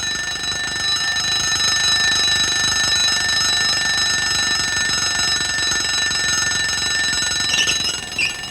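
An alarm clock rings steadily and loudly for the whole stretch, a continuous bright ringing with no pauses. A few faint background stirrings appear near the end.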